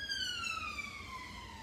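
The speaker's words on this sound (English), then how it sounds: "Sirens." A faint, distant siren wails steadily with a slowly falling pitch over a low background hum.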